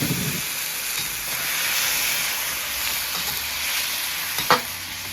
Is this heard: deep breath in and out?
no